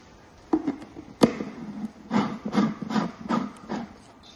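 A servo-driven grate and sift mechanism on an Arduino protein-shake maker shakes protein powder, giving a few sharp knocks followed by a run of rhythmic rattling pulses, close and moderately loud.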